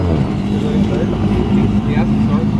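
A drift car's engine holds its lowest gear at an event, a loud, steady growl with a rough harmonic drone that barely changes over a couple of seconds, close to the listener.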